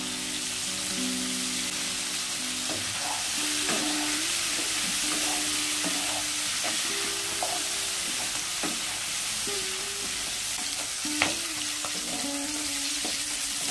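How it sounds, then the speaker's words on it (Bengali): Vegetables for a spinach-stalk chorchori fry in a pan with a steady, soft crackling sizzle, punctuated now and then by light stirring clinks, close and even throughout. "সবজিগুলো 2 মিনিট মতো ভেজে নিয়েছি।"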